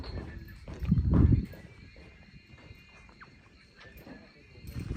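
An unruly horse: a loud, close snort or neigh-like burst near the start, then quieter shuffling movement, with faint voices in the background.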